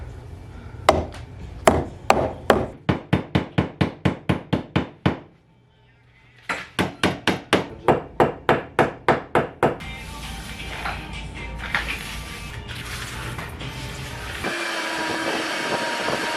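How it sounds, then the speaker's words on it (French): Hammer blows knocking during a basement demolition, a rapid run of sharp impacts, a short pause, then another burst of strikes, followed by a rougher stretch of scraping and clattering debris. "T'as-tu le marteau?"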